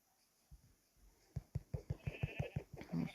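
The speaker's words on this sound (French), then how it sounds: "Regardez, il y a des moutons." Sheep in the blocky survival game Minecraft bleat in a quick run of short, punchy calls, about a dozen in a row, fairly close and clear with no talking over them.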